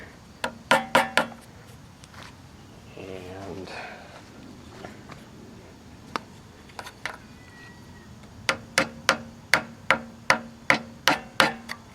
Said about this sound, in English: Try to tap it with something. Okay, we've got a crude hammer and a piece of plastic